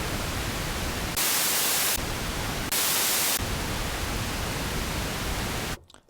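Pink noise from a 1974 Minimoog analog synthesizer: steady hissing alternates between a deeper, rumbling rush and brighter, thinner white-noise bursts, then cuts off abruptly near the end.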